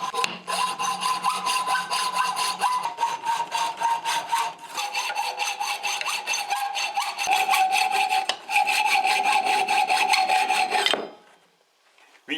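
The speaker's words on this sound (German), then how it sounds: "Wir sägen uns also von dem Flachstahl ein passendes Stückchen runter." Steady back-and-forth sawing of a flat steel bar with a hand saw, rhythmic rasping strokes close up, continuing for several seconds before stopping abruptly.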